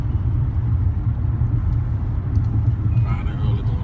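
A car drives along the road in the early morning, a steady low rumble of engine and tires heard from inside the cabin, with faint brief higher noises near the end.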